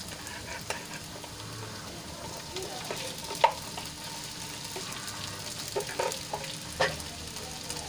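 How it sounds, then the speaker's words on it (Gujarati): Potatoes and sago pearls sauté in a pan, producing a soft, steady sizzle with occasional stirring scrapes and light clicks, close but fairly quiet. "તો બટેટાને સરસ રીતે સાંતળી લીધા છે તો હવે એમાં આપણે સાબુદાણા એડ"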